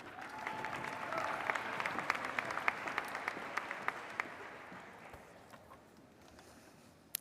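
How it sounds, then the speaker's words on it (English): Applause from a seated audience at a spring nursing college commencement ceremony, a steady wash of many hands clapping that holds fairly loud, then gradually fades as it thins out. "Applause."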